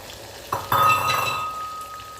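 Single-clove garlic sautéing in a pan, a sudden sizzle bursting in as it hits the hot oil, with a faint metallic ring from the pan, then a steady hiss that slowly fades, heard close with no talking.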